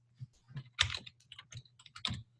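Scattered keystrokes on a computer keyboard, sounding as irregular, close, light clicks with short pauses between bursts of typing, and no voices.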